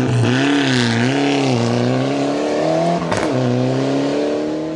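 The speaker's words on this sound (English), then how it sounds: "Out on the route, it was a race, with Carl Tundo and Tim Jessup setting the early pace" A rally car races along a long gravel stage of the KCB Easy Pay Loans Rally. Its engine roars loudly and close, revving up and down through gear changes with a brief break near the end.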